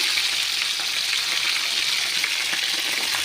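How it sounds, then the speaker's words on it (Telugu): Bitter gourd frying in hot oil after salted water is added, a loud, steady sizzle with dense crackling and spattering that holds without a break, no voices present. "చిందులు పడతా ఉంటాయి నీళ్ళు కాబట్టి"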